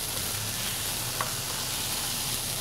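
Tortillas browning in hot oil give a steady, close sizzle and crackle throughout, even in level with no breaks.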